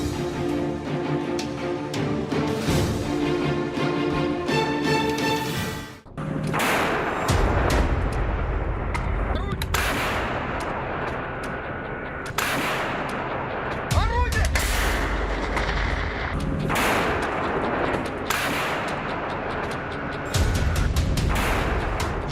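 Several deep explosion booms and blasts from the Russia-Ukraine war go off at intervals over a busy mix of other sounds, with voices present at times.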